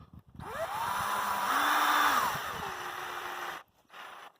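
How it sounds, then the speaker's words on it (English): Cordless power drill reversing a screw out of a Granberg EZ Rails setup, a close motor whine rising in pitch, holding for about three seconds and winding down before stopping. "just grab your drill and back it out"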